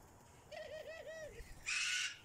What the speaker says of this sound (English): Doves and pigeons.